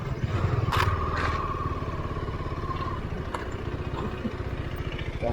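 A motorcycle idling off-road after being parked, its engine putting out a steady low pulsing chug close by, with a brief higher whine near the start and a few light clatters.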